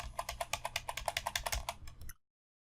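Rapid, steady typing on a computer keyboard while editing a Bootstrap 4 contact form, a run of close, crisp key clicks for about two seconds that then stops abruptly into silence.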